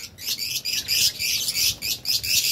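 A pet lovebird chirps in a rapid series of high, bright tweets close by, repeating in quick bursts with a faint flutter mixed in.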